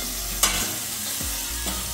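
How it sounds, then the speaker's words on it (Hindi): Sangri sabji masala cooking in a pan over low heat, giving a steady, close sizzle and fry hiss broken by a few soft stirring scrapes, with no talking. "अब इसको थोड़ा सा कम आंच में पकने दें।"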